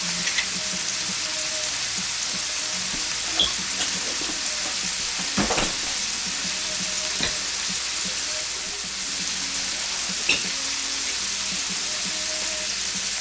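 Brussels sprouts fry steadily in a pan with a constant dense sizzle, broken by a few sharp crackles and pops, with no talking over it.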